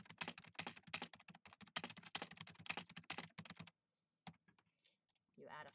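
Rapid clicking of computer keyboard keys as a short description is typed, dense irregular keystrokes close up, then a pause with a few scattered taps.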